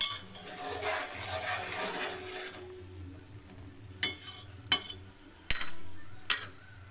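Sugar syrup for boondi laddu bubbles and sizzles steadily in a pan while being stirred, followed by several sharp, separate clinks of a spoon against the metal pan.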